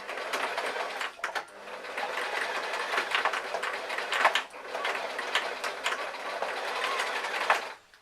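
A sewing machine runs in fast, close bursts, the whirring needle chatter stopping briefly as the stitching reverses direction, then racing on again; loud and unaccompanied by speech.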